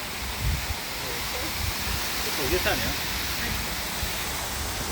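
Steady rushing water flows continuously, a broad even wash of sound, with faint voices briefly audible beneath it.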